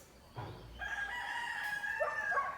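A rooster crows in a long drawn-out call, clear and fairly close over a quiet outdoor background.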